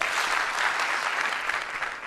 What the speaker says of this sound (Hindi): फिर से बोल रहा हूं, जब भी मैं हेलो बोलूंगा आप एक बार ताली बजाएंगे